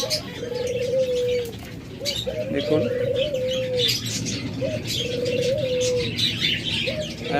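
Two caged birds sold as a breeding pair, giving repeated rising cooing calls roughly every two seconds along with scattered chirps, close and clear, while someone talks briefly.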